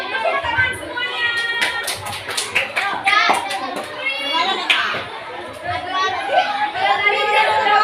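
Children in a classroom clapping together, a ragged burst of applause mixed with lively chatter and kids' voices throughout.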